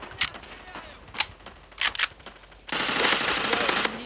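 Gunfire in the shooter game Bullet Force: scattered single shots and short bursts early on, then a sustained loud burst of automatic fire over the final second and a half, with no speech.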